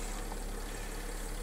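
Mercedes E320 CDI diesel engine idling just after start-up, a steady low hum with faint even vibration, close and unchanging throughout the brief stretch.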